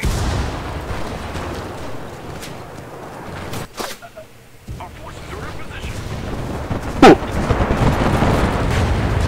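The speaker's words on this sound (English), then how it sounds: "someone's coming in with the airstrikes now" Distant and mid-range airstrike blasts in the Enlisted World War II shooter, a continuous rumbling battlefield roar with scattered booms and a sharp nearer crack late on, briefly dipping before swelling again.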